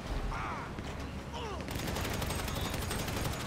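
Rapid bursts of gunfire from a GTA Online mission run with friends, a fusillade of shots that thickens in the second half, with faint whistling tones and a voice briefly heard over it.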